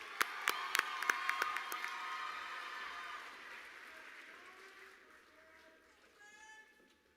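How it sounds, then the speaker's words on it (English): Applause from the audience at a Montana FFA state convention session as a Senior Creed Speaking contestant is introduced: a burst of clapping that fades over several seconds, with a voice faintly heard near the end. "Please give a round of applause to Trey Butcher from Cascade."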